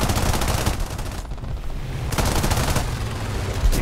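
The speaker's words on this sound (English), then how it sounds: "A few shots into him." Bursts of P-36A machine gun fire aimed at a Stuka in the War Thunder air combat game, loud and dense, with a short lull in the middle before the chattering volleys pick up again.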